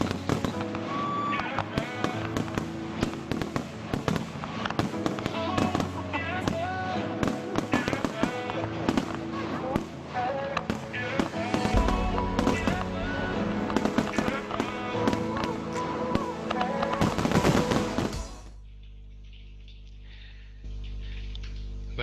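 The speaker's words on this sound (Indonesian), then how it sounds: "acara kita hari ini akan ditutup lewat pemandangan festival pesta kembang api yang sangat meriah ini" A festival fireworks display in Kyoto fills the air with a dense, continuous barrage of loud crackles and bangs for most of the clip, then stops abruptly, leaving a low murmur behind.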